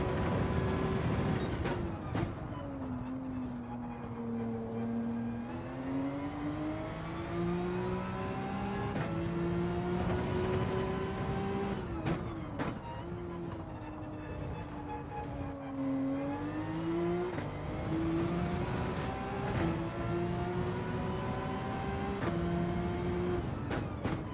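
A racing car in a video game revs after dropping to first gear, its engine note rising and falling in long sweeping pitch changes with a few sharp clicks, steady and close for over twenty seconds.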